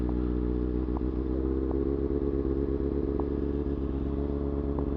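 A motorcycle engine running hard in first gear, a continuous loud low rumble with a steady throbbing tone and occasional faint clicks and clatter over the whole stretch, close by and with no voices.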